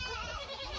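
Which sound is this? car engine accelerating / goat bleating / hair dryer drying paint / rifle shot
goat bleating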